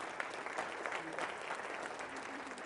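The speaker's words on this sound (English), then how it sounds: "Let's give Steve a round of applause for all the work that he's done" An audience at a talk on collective impact gives a round of applause, fairly faint and distant, steady dense clapping throughout.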